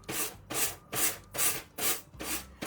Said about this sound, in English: I'm gonna grab a sanding block